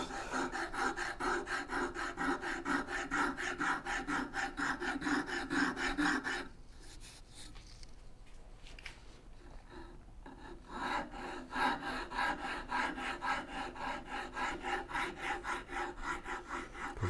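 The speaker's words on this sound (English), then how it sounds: "That's pretty much all of today is going to be rasps." Wood rasp filing a bow saw handle by hand, with dense repeated scraping strokes up close that stop for a few seconds in the middle and then resume at the same steady pace.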